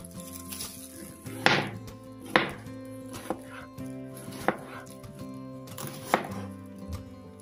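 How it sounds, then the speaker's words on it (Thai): A knife slices through cabbage on a cutting board, with about six sharp, separate chopping thuds at uneven intervals over steady background music. "เริ่มจากการซอยกะหล่ำก่อนเลยนะคะ"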